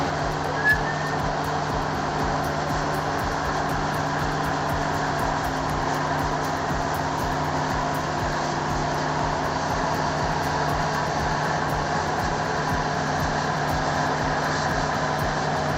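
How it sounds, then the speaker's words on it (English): The engine of a Komatsu D575A bulldozer, a huge tracked machine pushing rock, drones as a steady, even rumble with no clear changes or breaks. "the Komatsu D575A thrives."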